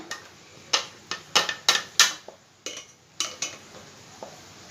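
Metal utensils clinking and tapping against a vessel while jaggery syrup is strained through a sieve, about a dozen sharp, close knocks in an irregular rhythm, with no speech.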